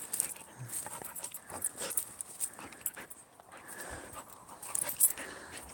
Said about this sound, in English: He's a crazy dog.